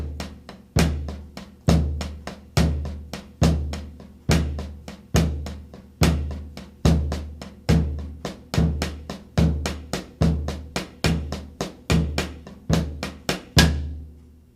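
A drum set plays regular triplets on the snare while the bass drum marks steady quarter notes, with evenly spaced thumping beats repeating for about fourteen seconds, close and without talk, before the sound cuts off.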